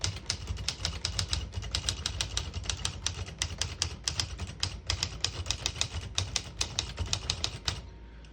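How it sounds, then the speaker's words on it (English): A 1959 Smith-Corona Skyriter portable typewriter typing a sentence: a fast, steady run of crisp close key strikes clacking for several seconds, then trailing off, with no voices. "I'll type a sentence on the next line."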